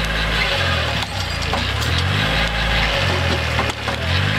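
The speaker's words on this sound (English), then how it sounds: "So we're feathering it right now with the hydraulic winch." Tractor engine running steadily under load while its hydraulic skidding winch is feathered to drag a large felled tree, a loud continuous mechanical drone with periodic dips and swells in pitch.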